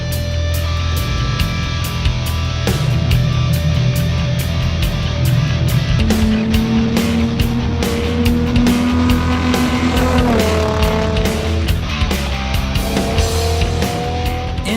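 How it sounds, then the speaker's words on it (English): A Nissan 350Z Spec Z race car laps a racetrack, its engine loud and close, climbing through the revs, dropping at each gear change and pulling hard again, with a steady roar that never lets up. "it's time to get this car on the racetrack"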